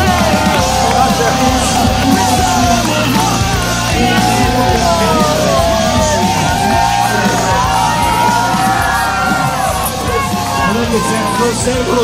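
A dense, continuous roar of spectators at the Milan Marathon finish, yelling, whooping and shouting for arriving runners. The cheering stays close and loud for the whole stretch, with overlapping voices and babble throughout.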